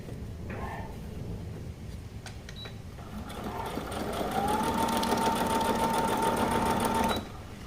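Sewing machine stitching a seam down the centre of a kameez, a few short starts and clicks before a steady whirring run of several seconds that stops abruptly, close and moderately loud.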